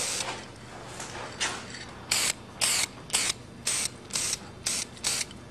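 Aerosol spray paint applied to small go-kart parts in a series of short, evenly spaced bursts, about eight crisp hisses in the second half after a few softer sprays, close by with no talking.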